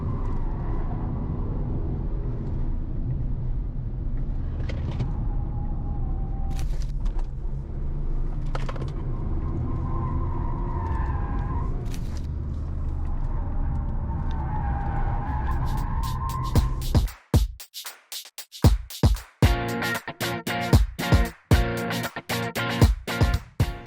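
A Tata Altroz Racer hatchback driven hard on a race track, with a steady engine drone and rising whine, then a burst of sharp, rapid tyre and mechanical bursts near the end, loud and close.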